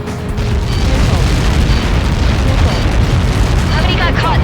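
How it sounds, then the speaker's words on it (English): Massive explosion in the combat flight game Ace Combat 7, a loud sustained roaring blast with rumbling debris filling the whole moment, with faint voices underneath. "How many got caught in that explosion?"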